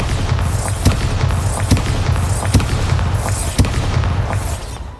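Rapid spell blasts in Hogwarts Legacy, including Bombarda, Incendio and Confringo, pop and boom one after another in a steady barrage of sharp bursts over a constant low rumble of combat.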